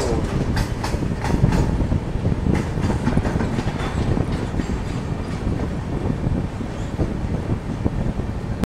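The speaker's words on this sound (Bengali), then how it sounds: "আমাদের ট্রেনটা এখন এসে দাঁড়ালো হচ্ছে দুর্গাপুর স্টেশনে" A long-distance Kolkata to Kashmir passenger train rolls into Durgapur station, heard from on board as a steady, loud rumble with rhythmic clickety-clack of wheels over rail joints and buffeting wind noise.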